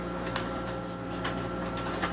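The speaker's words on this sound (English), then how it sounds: "It's the freeze dryer beside me because I'm about to make another batch." A Harvest Right freeze dryer runs up close with a steady mechanical hum and a faint whirring texture, marked by a few soft clicks or ticks at regular intervals.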